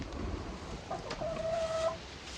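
Chickens kept in a coop with ducks during freezing cold weather give faint, distant clucks and a drawn-out squawk over low background noise.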